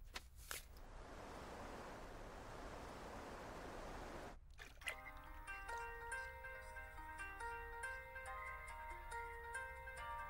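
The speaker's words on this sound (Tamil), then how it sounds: "ரொம்ப நேரம் ஃபோன் ரிங் ஆயிட்டு இருக்கு" A phone rings in a quiet indoor scene from a Tamil film, a steady tonal ringtone pattern that starts about halfway through after a soft hiss, playing at moderate level with no talk.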